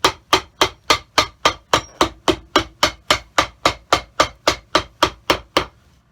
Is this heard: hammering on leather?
yes